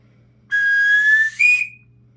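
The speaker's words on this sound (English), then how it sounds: "it's a fun little call for your collection" A hand-carved wooden game call gives a clear whistled note held for about a second, then a short higher-pitched blast that fades, loud and close.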